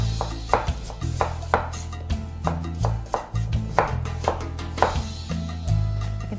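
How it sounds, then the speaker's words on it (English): A knife slices potato quarters into thin, quarter-inch slices for a Spanish tortilla, landing as a steady run of crisp taps on a cutting board, close and distinct, with a low hum underneath and no talking. "the quarters I'm gonna slice into slices about 1/4 inch thick"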